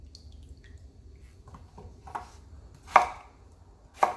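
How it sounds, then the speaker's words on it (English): A kitchen knife cutting and dicing vegetables for Jamaican curry goat, heard as soft scattered taps followed by two sharper, close chops about a second apart, in an otherwise quiet room. "I'm dicing everything just to keep everything diced"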